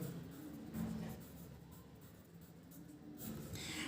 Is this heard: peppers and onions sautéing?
no